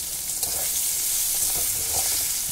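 Eggplant with turmeric, cumin, salt and slit green chillies fries in a pan, a continuous bright sizzle with soft stirring scrapes, close and steady without talk.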